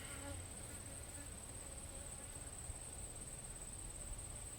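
Bees buzz steadily around a beehive in a neighborhood apiary, a continuous close insect drone with a faint high whine held throughout, no talk.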